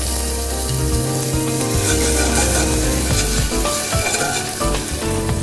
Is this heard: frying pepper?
yes